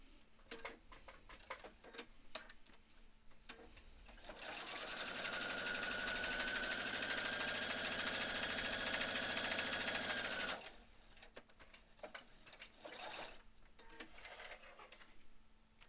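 A sewing machine runs a line of stitching along a fabric edge in one steady whirring burst of about six seconds, framed by quiet clicks and handling before and after, fairly faint overall.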